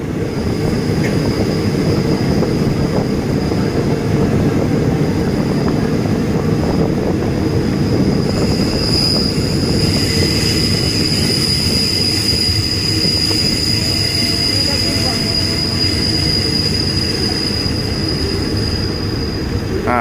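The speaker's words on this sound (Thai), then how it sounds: "อ้าวด้านนี้มีขบวนรถนะ" A train rolls along a railway line near Thai stations between Ratchaburi and beyond, a steady loud rumble of wheels on rails filling the whole stretch, with a faint high squeal riding on top and no talk.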